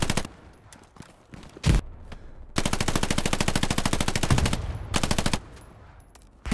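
Rapid bursts of automatic gunfire in Hell Let Loose, a short volley then a long sustained stream, loud and close, with brief pauses between bursts.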